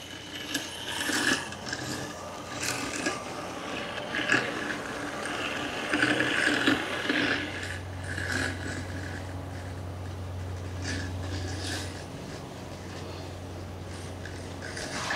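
Segway Navimow i110 robotic lawn mower cutting grass outdoors: a steady close whirring motor with mechanical ticking and clicking, and a lower hum joining partway through, without any talk.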